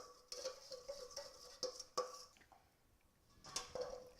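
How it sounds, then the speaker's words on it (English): Sweet potato fries being stirred with oil and garlic in a bowl, giving soft, faint scraping and clinking taps at irregular intervals, close and quiet, with no talk. "And give that a stir"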